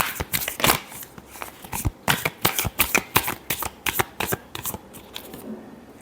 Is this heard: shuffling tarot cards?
yes